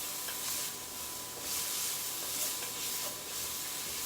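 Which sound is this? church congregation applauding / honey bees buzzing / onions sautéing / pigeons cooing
onions sautéing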